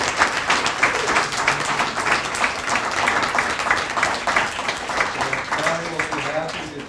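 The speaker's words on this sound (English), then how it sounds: "we need to give you an applause" Audience applause at a members' and daughters' evening event, a room full of people clapping steadily and fairly loudly, with a few voices rising faintly near the end.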